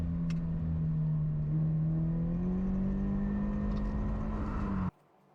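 A race car engine holds a steady, loud drone with a slight rise in pitch on a wet Queensland Raceway, running near and unbroken before cutting off abruptly near the end.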